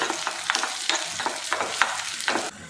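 Chopped dried red chillies and shallots crackle and sizzle in hot oil for a chutney tempering, with a steady broadband hiss punctuated by regular scraping stirs, close and fairly loud, ending abruptly.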